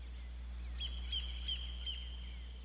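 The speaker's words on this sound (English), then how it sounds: "And I added some reverb to the birds." Bird calls with added reverb in an electronic music track, a few faint chirps and a sustained whistled tone echoing in a wide space over a low steady hum.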